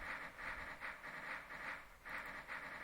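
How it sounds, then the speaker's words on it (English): A long coal train rolls along in the OpenTTD transport game, its steady rhythmic chuffing hiss pulsing about twice a second, faint and even, with no voices. "a very long coal train at that"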